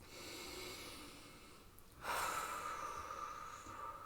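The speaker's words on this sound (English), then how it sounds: "2 more breaths." Steady deep breathing during a yoga session, a long exhale followed by a louder, rushing inhale through the nose or mouth, close and alone with no talk.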